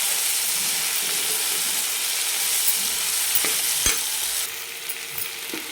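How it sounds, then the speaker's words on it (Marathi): Potato pieces stirred in a hot pan, a steady loud sizzle with a few sharp scraping clinks of the spoon near the end, close by and without speech. "आणि आता लगेच आपण बटाट्याच्या फोडी टाकायच्या आणि मिक्स करून घ्यायचं छान."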